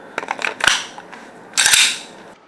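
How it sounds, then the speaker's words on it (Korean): RST TTI Glock 34 Gen3 gas airsoft pistol with an aluminum DLC slide, running on white Puff Dino gas, fires in two bursts of several sharp, rapid pops with clacking slide action, close and loud. "RST 타란 34 다시 한번 격발해 보도록 하겠습니다"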